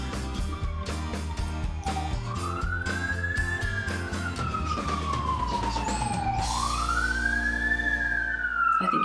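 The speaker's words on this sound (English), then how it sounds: "I think you guys can hear the police sirens in the back." A police siren passes outside in Toronto, its wail rising and falling in long sweeping cycles over steady traffic rumble, with no talking.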